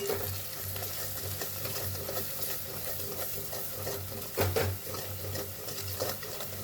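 Spoon stirring potato pakoras with Kashmiri chilli and turmeric in a pan, a steady scraping sizzle of frying with a couple of louder knocks near the end, no talking.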